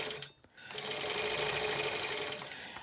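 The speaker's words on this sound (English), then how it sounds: "So I'm sewing the bias binding in half." A sewing machine stitching bias binding folded in half on a fabric face covering, a brief pause, then a steady, fast, whirring run of stitches close up.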